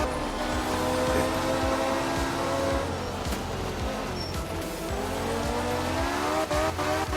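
In a racing video game, a Torque V6 car slides across a rain-soaked track, engine droning steadily with rising and falling pitch while tires scrub and squeal, continuous and close with no voices.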